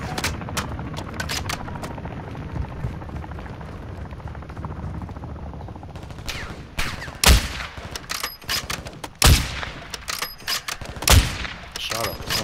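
Gunfire in a Call of Duty match against bots: rapid automatic bursts under game noise for the first half, then several loud, sharp shots and short volleys close by, with a voice speaking at times.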